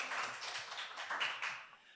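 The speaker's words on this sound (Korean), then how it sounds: "고생하신 비상팀에게 큰 박수 부탁드리겠습니다" A crowd applauding steadily for about two seconds, dense overlapping claps that taper off slightly at the end, with no talking.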